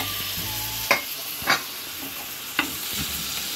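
Tomatoes stirred into liver frying on a tawa, a steady close sizzle broken by several sharp scraping strokes of a spoon against the pan.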